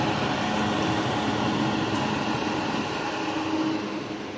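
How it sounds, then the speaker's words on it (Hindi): Two large heavy air coolers run inside a mosque with a constant, even whir and blowing hum, steady and close, fading slightly toward the end. "यह 2 बड़े हैवी कूलर आए हैं जी।"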